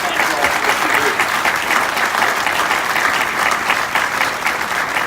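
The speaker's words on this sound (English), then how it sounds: "I hope you all will join me in giving them all a round of applause." A crowd at an outdoor groundbreaking ceremony applauds law enforcement officials with sustained, even clapping that holds steady and loud for five seconds.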